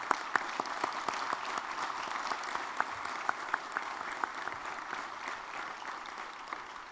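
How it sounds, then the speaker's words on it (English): An audience at a county executive and county council swearing-in ceremony gives a round of applause, a moderate, fairly quiet patter of many hands with a few crisp nearby claps popping out over the steady wash. "Let's give them a big hand."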